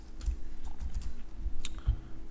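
Keys clatter on a computer keyboard in short irregular bursts of clicks and thumps, close and moderately quiet, with no talking over them.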